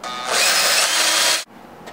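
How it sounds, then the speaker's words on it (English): A power drill bores a small hole while building an electric shellac mixer, one steady loud whirring run of about a second that stops abruptly, followed by quiet handling. "And we'll drill a little hole through here."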